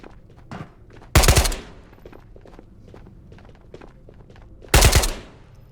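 Two loud, heavy gunshot bursts from a level 2 gun in Ghosts of Tabor, each a short cluster of booming shots, separated by quieter footsteps and clicks.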